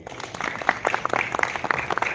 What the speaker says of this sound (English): Thank you, clap for them.